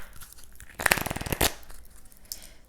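Oracle cards are laid out with a dense burst of quick papery flicks and slaps, then a single sharper snap, followed by a few soft rustles in a quiet room.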